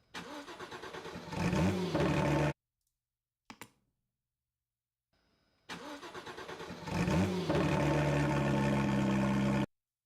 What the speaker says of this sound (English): That should show you the power and how loud my car was. I had a full exhaust.